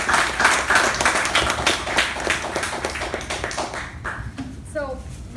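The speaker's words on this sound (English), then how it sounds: "Please give a huge round of applause to the team" Audience applause at a club installation ceremony, a dense patter of clapping that gradually thins and fades, with a voice starting to speak as it dies away.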